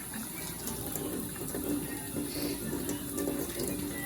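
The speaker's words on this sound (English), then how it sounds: "We're going to get some soap here and some warm water." Warm water runs steadily from a tap while hands are washed with soap at a home sink, a constant close hiss and splash with small shifts as the hands move.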